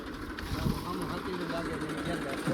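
A tractor engine runs with a steady low rumble on a farm while someone talks over it.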